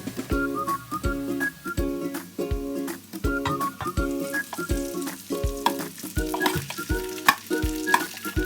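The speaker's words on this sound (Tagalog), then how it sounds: "Let's fry the pork chop" Pork chops frying in hot oil in a pan, a steady close sizzle with repeated rhythmic stirring or scraping knocks, while music plays over it.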